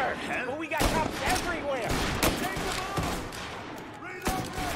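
Dense gunfire in Mafia Definitive Edition, with repeated sharp shots cracking over a busy combat din and a voice talking throughout.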